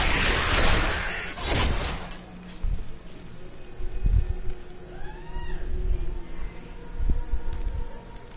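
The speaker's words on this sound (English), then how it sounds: "Kitty!" A cat meowing in the Wake The Dead game, a few drawn-out meows rising and falling over low ambient rumble and scattered thumps.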